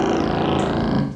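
A synthesizer tone with a fourth oscillator added, a sine wave layered after a square wave, giving a steady buzzy, slightly rasping sustained note for just over a second with no talk.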